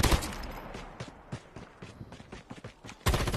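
M13 rifle fitted with a scope firing in Call of Duty Mobile, a rapid string of sharp close shots with a louder burst at the end.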